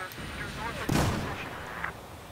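Gunfire in the Battlefield 4 video game, shooting through a hole in a building: a burst of heavy, booming shots peaks near the middle over a constant battle din, with a muffled voice faintly underneath.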